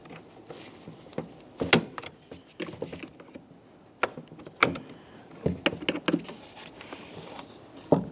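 Sharp plastic clicks, snaps and scraping sounds of a rear door panel being pried loose on a 2006-2011 Honda Civic, in irregular bursts, close up with quiet gaps between.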